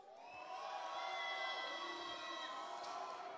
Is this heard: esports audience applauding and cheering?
yes